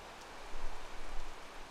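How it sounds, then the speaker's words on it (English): Soft Minecraft rainfall makes a faint, even hiss of falling drops, a short steady wash with no talking. "Why do I have a creeper and it's raining?"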